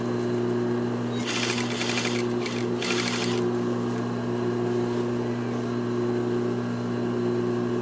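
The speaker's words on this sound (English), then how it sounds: "you could sew it by hand, but why would you when you could do it on the machine, right?" Sewing machine stitching two suit collars together, a short close run of rapid needle clatter in two bursts over a steady low motor hum.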